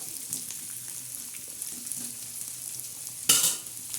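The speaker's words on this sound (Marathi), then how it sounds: "हा कांदा चांगला परतायचा आता" Chopped onion fries in a pan for a dish of amaranth greens, giving a steady, soft sizzle. Near the end a brief, sharp scrape or clatter of stirring cuts in.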